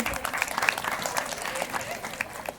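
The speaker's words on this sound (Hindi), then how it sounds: "सृष्टि गोस्वामी के लिए जोरदार तालियां" Brief, fairly faint audience applause at a Tulsi Pujan event, scattered clapping with some crowd murmur mixed in.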